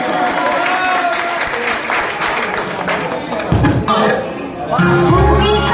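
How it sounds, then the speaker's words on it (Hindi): A crowd claps in sustained, steady applause, with a voice talking over it throughout. "चलिए इनके लिए एक बार जोरदार ताली होना चाहिए।"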